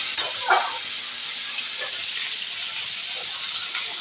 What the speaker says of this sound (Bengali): সামান্য একটু নুন দিয়ে ঢাকা দিয়ে দেবো, একটু জলের ছিট দিয়ে।